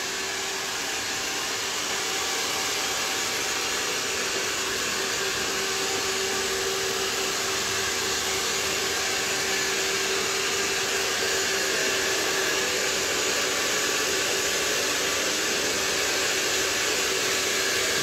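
A handheld hair dryer blows cool air to dry hair, giving a steady, loud, unbroken whoosh with a faint constant whine that holds for the whole stretch, alone with no talk.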